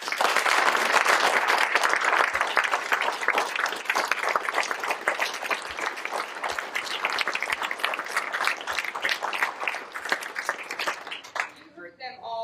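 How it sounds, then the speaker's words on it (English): Sustained audience applause for a group of seven graduates at a Partners 4 Success graduation ceremony, steady dense clapping from a crowd for about eleven seconds before fading out, with a voice beginning at the very end. "I want to give this group of 7 individuals another round of applause"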